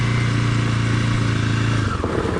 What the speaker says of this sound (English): Emergency braking, I'm going to use a rear brake only. I'm going to hit it at about 10 miles an hour.